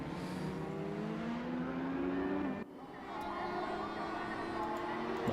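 A race car in a sim-racing event revs and pulls away from the pit box, its engine note rising steadily and then dropping at a gear change before climbing again, with a commentator speaking faintly under it.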